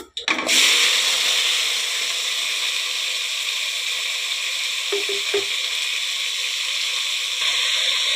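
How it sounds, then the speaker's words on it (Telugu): Chopped tomatoes and onions fry in a pan with a loud, steady sizzle that starts abruptly as they hit the hot oil, then a couple of brief clicks of utensil on pan, close and continuous. "ఇప్పుడైతే మనం కట్ చేసుకున్నవన్నీ ఇందులోకి వేసేసుకుందాం"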